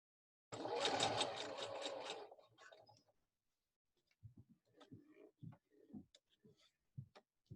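A sewing machine stitches a seam on an 80s-style high-top sneaker in a close, fast rhythmic burst of about two seconds, then stops. Someone talks quietly afterward.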